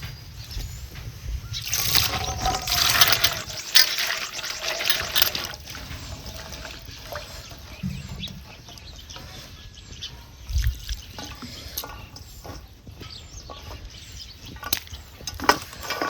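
Water sloshes and trickles as green chillies are rinsed by hand, with light splashes and knocks coming in uneven bursts, close by and moderately loud.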